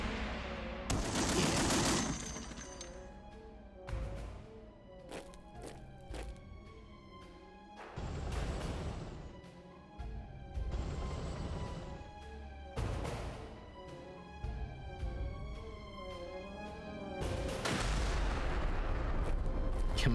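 Game audio from the World War II strategy game Commander: World War II, with repeated loud bursts of gunfire and explosions separated by brief quieter gaps and tonal game effects.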